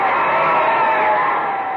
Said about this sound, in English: Listen to this crowd cheering the winners.